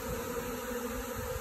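Honeybees hum in a dense, steady buzz while working soy flour on 26 February, an early spring flight day with knee-deep snow on the ground, loud and close, with no voices.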